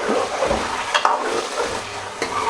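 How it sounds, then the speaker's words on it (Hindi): Chicken pieces frying in oil for a chicken matar karahi, a close, steady sizzle with scraping stir strokes and a couple of sharper clacks of the spoon against the pan. "भुनेंगे ऑयल में"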